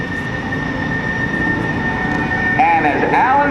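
Airplane on landing approach at the 2005 NAS Oceana air show, a steady loud engine drone with rising whining tones near the end, heard from the crowd.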